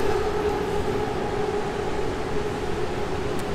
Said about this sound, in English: A train just comes every few minutes.